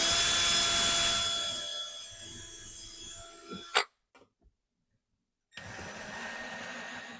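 A power driver whines as a screw goes through a cleat into a wall stud, a loud steady motor tone that fades, then stops with a short clunk. After a moment of silence a fainter hum begins.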